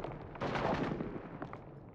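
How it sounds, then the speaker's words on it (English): A gunshot sound effect booms in a battlefield story: one muffled, rumbling blast that swells and fades over about two seconds, heard alone without speech. "As smoke and fog filled the air, Major Shipley was shot."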